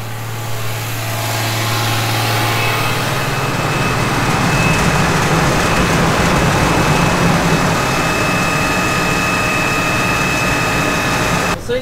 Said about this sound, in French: Ça y est, le tracteur est à fond là.